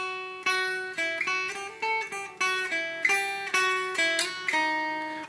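A guitar plays a plucked melody of bright, ringing notes with a Middle Eastern flavor, each note decaying before the next, steady and unaccompanied.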